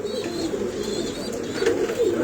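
Pigeons at a pigeon farm in Mirpur, Dhaka, coo softly and continuously in low murmuring calls, close by, over a steady background hum, with no talking.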